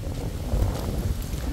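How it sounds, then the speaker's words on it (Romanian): Strong storm wind at a monastery site roars and buffets the microphone in a steady, loud low rumble with no break, and no voices are heard. "Bate vântul ceva de nedescris. Este furtuna."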